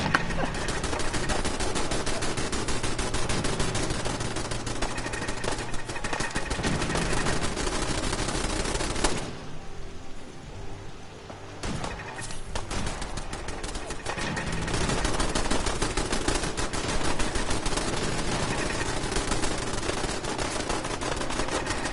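Turrets hammer away with machine-gun fire in Fallout 4 during a battle at the Castle, dense rapid bursts that run almost continuously and loud, with a brief lull in the middle before the firing resumes.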